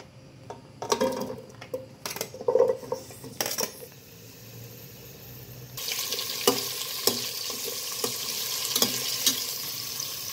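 Vegetables fry in coconut oil in a pan for Thai green curry, with clinks and scrapes of stirring early on, then a steady, close sizzle filling the rest.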